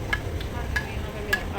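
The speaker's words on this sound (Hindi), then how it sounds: "अब हम दूसरा बैच डालने लगे हैं, और दूसरा बैच डालकर जो है हम इसको फ्राई कर लेंगे।" A second batch of food frying in hot oil in a home kitchen: a steady close sizzle with a few faint ticks over it, no voices.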